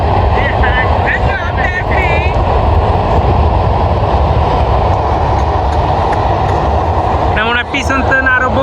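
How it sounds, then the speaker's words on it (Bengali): A short train passes close by on the bank of the Padma river, a loud steady rumble with clattering wheels, with a voice briefly heard over it near the start and end. "তখন কিছুক্ষণ পরেই দেখি যে রেল যাইতেছে"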